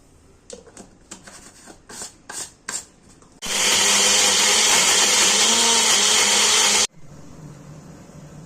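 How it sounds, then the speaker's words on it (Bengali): Blender grinding a tomato and a green chilli into paste, a loud steady whir running about three seconds after several short clicks and knocks, then cutting off abruptly. "একটা টমেটো আর একটা কাঁচা লঙ্কা পেস্ট তৈরি করে নিচ্ছি।"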